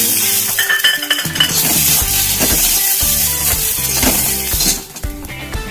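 Loud, busy frying in a kadhai, with a hissing sizzle under repeated clanks and scrapes of a metal utensil against the pan.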